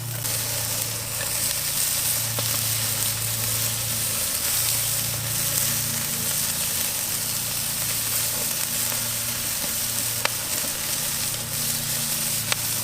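Beer brats sizzle steadily on an Oklahoma Joe's Blackjack kettle grill, a continuous close hiss and crackle with a few sharp pops, under a low hum and with no talking.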